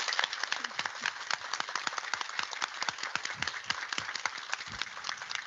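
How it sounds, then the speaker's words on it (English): Warm applause fills a space-related talk, with crisp individual claps stacking into a steady moderate-volume patter that carries on evenly from start to finish. "I hope that you can hear a very warm applause from the earth up to you."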